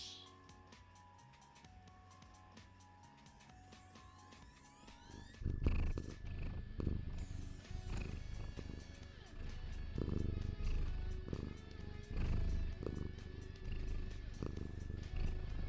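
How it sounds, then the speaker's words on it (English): A small cat purrs close to the microphone, a low rumbling drone that sets in partway through and continues steadily over faint electronic game music. "You hear the cat?"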